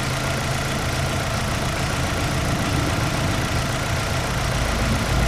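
A 2010 Chevy Aveo with a 1.6 Ecotec engine idles steadily after a valve cover replacement, giving a continuous, even engine hum close by with no talking.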